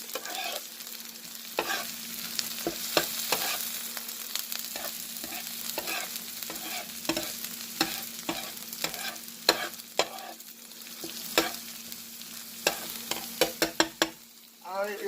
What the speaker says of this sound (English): Caramelize this, right?